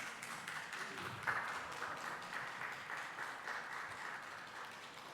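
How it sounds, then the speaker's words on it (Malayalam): An audience in a museum hall gives steady, distant applause for a child at a nature photography club's annual award ceremony. The clapping is soft and continuous and goes on for several seconds. "നല്ലൊരു കയ്യടി കൊടുത്ത് നമുക്ക് ആ മോളെ പ്രോത്സാഹിപ്പിക്കാം"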